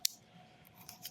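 A couple of quick, crisp snips from small pocket-tool scissors, close and brief, with quiet pauses between.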